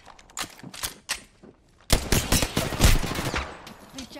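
Gunfire in the Apex Legends video game, scattered single shots at first, then a dense burst of rapid automatic fire and impacts, loud and close.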